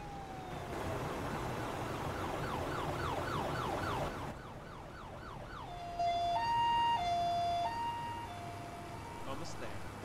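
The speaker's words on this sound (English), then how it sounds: "shut up with your annoying siren" Ambulance siren in the Emergency 4 video game with a Boston mod, wailing in repeated rising sweeps before switching to a loud two-tone hi-lo pattern, with radio-style talk underneath.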